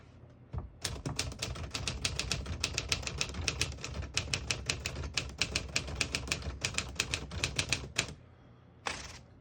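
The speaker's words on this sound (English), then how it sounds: "So I'll type a sentence on the next line." Typing on a 1949 Smith-Corona Silent portable typewriter: a quick, even run of crisp key strikes for several seconds, ending with a short carriage-return zip, close and fairly quiet.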